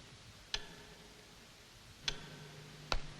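A clock in a very quiet film scene gives three distinct, crisp ticks at uneven intervals, sharp against a hushed background, with no voices.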